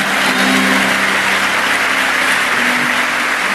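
A church congregation applauds loudly during a Portuguese-language sermon, a dense, steady roar of clapping that fills the whole moment without a break.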